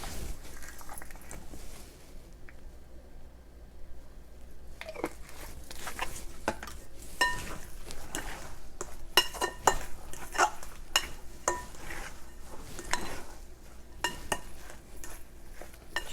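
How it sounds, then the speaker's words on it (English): Sweet potato casserole mixture with nutmeg, cinnamon and vanilla being stirred in a bowl, giving a steady run of close scraping and clinking from the spoon, with brief louder knocks against the dish. "Just want to mix everything really well."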